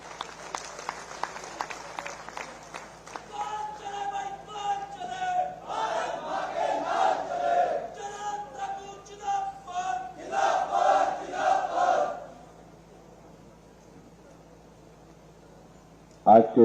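A crowd at an outdoor political rally in Haroli, Himachal Pradesh, cheers and claps to welcome Chief Minister Jai Ram Thakur, a loud rising roar with rhythmic clapping lasting about twelve seconds, then fading to quiet.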